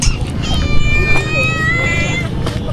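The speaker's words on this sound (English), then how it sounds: "Somehow there's a cat up here." A cat meows in a few drawn-out calls at a hilltop viewpoint, close by, over outdoor wind noise and people talking.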